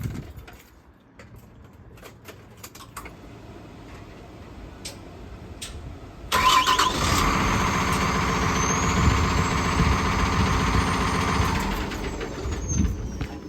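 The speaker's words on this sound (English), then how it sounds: "let's see if our truck starts up well" A diesel truck engine cranks and catches at about the midpoint during a pre-trip inspection, then settles into a loud, steady idle with a high whine, following quieter background ticking.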